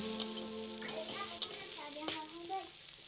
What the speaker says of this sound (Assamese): নাৰিকলখিনি ভাজি থাকোঁতে এটা কথা মন কৰিব যে কেৰাহীত লাগি নধৰে।